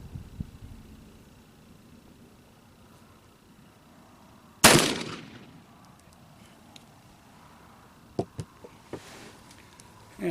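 A single loud shot from an Uberti 1860 Army cap-and-ball revolver cracks out mid-clip and rings into a decaying tail, preceded by faint outdoor noise and followed by a few small sharp knocks.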